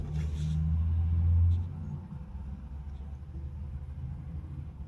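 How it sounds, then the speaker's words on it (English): Loud road traffic with big trucks rolling past an electric pickup charging stop: a heavy low rumble swells as a truck goes by, then eases into a steady traffic drone. "Loud out here, a lot of trucks."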